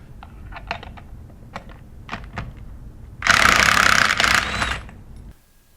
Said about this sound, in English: we're going to use a 3/8 inch electric impact gun